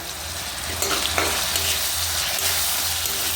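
Turmeric, chili and a bay leaf frying in oil in a pan, a continuous loud sizzle with occasional light stirring taps, heard up close with no voices.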